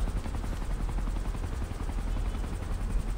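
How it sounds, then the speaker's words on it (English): A helicopter in the video game Ghost Recon Future Soldier gives a steady, dense rotor thrum and low rumble, loud and continuous throughout without voices. "Watch that helicopter just getting blown up."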